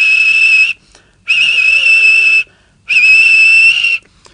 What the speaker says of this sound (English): We whistle before every station.